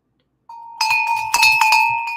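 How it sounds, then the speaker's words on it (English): A small hand bell is rung close up to start a writing sprint: one clear ding and then a quick flurry of bright, metallic rings that hang and fade. "I have a bell that I ring"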